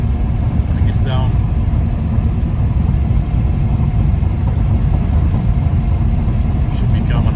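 An idling engine, apparently running slightly lean or with too much spark, loping and bumping against the throttle at low load. The rumble stays steady and close, with voices talking over it.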